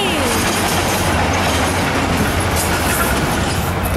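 A train rolls past close by, a steady loud rumble with rattling clatter from the wagons, continuous for the whole stretch with no talking.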